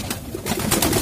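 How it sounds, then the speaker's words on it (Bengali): Pigeons coo nearby in a short, loud burst of soft, throaty cooing with some rustling, as birds settle down to feed. "এই দেখেন ভিউয়ার্স, আমি একটা কবুতর ছেড়ে দিলাম, এই পর কাটা কবুতরটা দেখেন, এই কবুতরটা নামছে"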